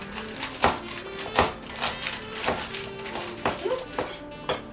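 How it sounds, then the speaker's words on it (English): A knife chops vegetables for a salad mix in a home kitchen, making a steady series of crisp taps on a cutting board about every half to three-quarters of a second, close and fairly loud. "I do just a little bit more chopping."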